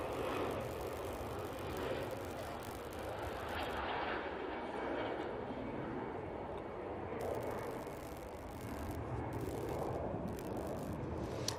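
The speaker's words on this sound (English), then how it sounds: "Easyjet on the roll." An Easyjet airliner's jet engines roar steadily on the takeoff roll at Manchester Airport, heard from a distance as a continuous broad rumble with slight swells.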